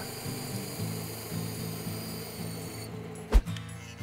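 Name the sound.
bandsaw cutting wood for pedal board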